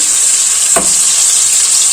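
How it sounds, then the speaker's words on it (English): Loud, continuous sizzling and crackling of marinated chicken frying in butter and oil for butter chicken, with a brief thump partway through. "the sizzle is so amazing"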